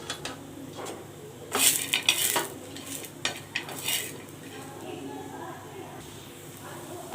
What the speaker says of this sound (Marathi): इथे खोबरंसुद्धा मी असंच भाजून घेणार आहे